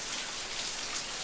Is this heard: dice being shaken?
no